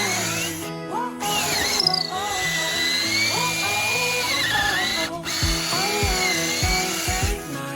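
A power drill whines steadily at high pitch, bogging and surging as it bores into wood with a small bit, with a low droning hum underneath throughout.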